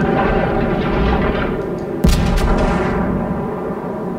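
Naval guns on a Dunkerque battleship firing a salvo in World of Warships, a sharp loud boom about midway through, standing over a steady low engine and sea rumble that runs throughout.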